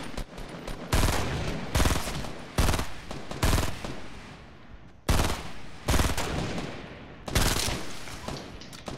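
Video-game gunfire with a sniper rifle: loud, heavy shots at irregular intervals, about nine sharp blasts, each followed by a booming decay that fills the gaps.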